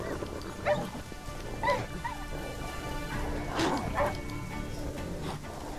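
Wolves in The Witcher 3: Wild Hunt growling, yipping and whimpering in scattered short bursts over steady game background noise, fairly faint and without speech.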